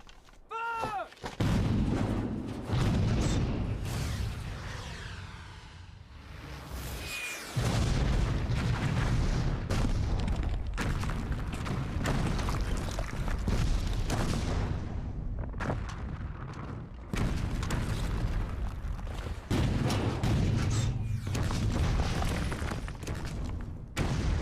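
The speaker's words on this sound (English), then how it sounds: "French cannons are deadly!" French cannons fire at a guarded mountain pass, booming again and again at an uneven pace over about twenty-five seconds. The heavy blasts are loud, with rumbling in the gaps and no talk.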